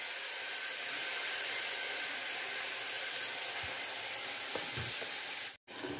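Garlic chutney paste added to hot oil with crackling mustard seeds and curry leaves sizzles steadily, a dense continuous frying hiss close to the pan, with a few faint clinks near the end and no talk.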